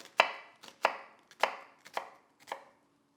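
Knife chopping through an onion on a cutting board, five crisp, evenly spaced strokes with short ringing decays, close and clear, then quiet.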